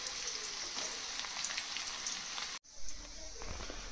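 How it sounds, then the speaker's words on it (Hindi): Onions fry in oil for a pork curry, giving a steady, close, dense sizzle and crackle that cuts off for a split second, then returns with a low thump and continued hissing. "मोर पियाज पकई सारे"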